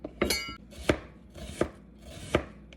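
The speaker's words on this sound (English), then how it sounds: "So now we're gonna cut up some onion and carrots and add it into the" Knife chopping onion and carrots on a cutting board for an oxtail dish, four distinct firm chops spaced about two-thirds of a second apart, close and clear with no talking.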